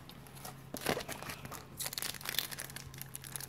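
Stiff trading card booster packs crinkle and tear as they are opened, with irregular papery rustling and crackling bursts, close and moderately quiet.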